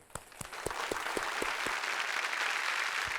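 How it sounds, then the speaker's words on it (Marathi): Audience applause at a quiz game show, beginning with a few separate claps and swelling within a second into steady, dense clapping from a large crowd that holds at full volume. "टाळ्या वाजूया."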